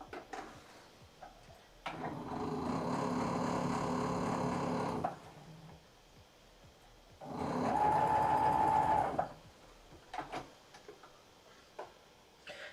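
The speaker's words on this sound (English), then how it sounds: "all we have to do is sew a black strip down the center to put the whole piece together" A sewing machine stitches a black strip down the center of a quilt in two runs of steady, rapid whirring, separated by quiet pauses with light ticks and handling clicks.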